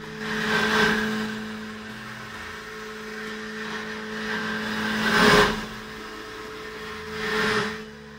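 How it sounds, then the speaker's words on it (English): A helical end mill on a Haas CNC machine recuts its own chips, giving a gravelly grinding like chewing stones over a steady machining drone, with louder bursts near the start, middle and end. "This is gonna sound like we're chewing gravel."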